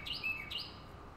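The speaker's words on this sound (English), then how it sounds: "Got my bird friends here today." Small birds chirp outdoors, two quick bright tweets in close succession, fairly faint over a soft background hush.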